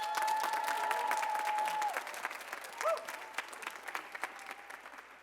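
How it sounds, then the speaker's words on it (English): An audience at a university theater concert of Southern African music and storytelling breaks into warm applause, many hands clapping steadily, with a thin sustained whistle-like tone hanging over the first two seconds before the clapping tapers off. "Can we please get a special clap for..."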